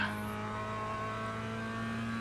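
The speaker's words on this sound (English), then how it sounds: "Blue car holds on, black car gets past." Mazda MX5 Cup race cars in iRacing at Summit Point Motorsports Park drone steadily, a sustained engine hum at moderate volume with a faint rise as a car closes in.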